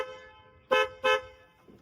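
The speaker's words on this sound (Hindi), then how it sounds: "and this is for horn" A modified Willys Kaiser M38A1 Jeep, converted from an MM540, sounds two short, loud, close horn blasts in quick succession with no talking.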